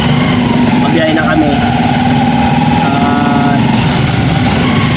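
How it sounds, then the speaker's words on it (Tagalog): Motorized tricycle engine running steadily in traffic, a continuous low rumble throughout, with people talking over it. "Ayan mga ka-business, dito na kami sa tricycle."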